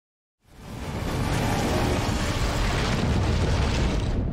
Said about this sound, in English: how does that dragon have unlimited gas? Like, at some point, the fire's gonna run out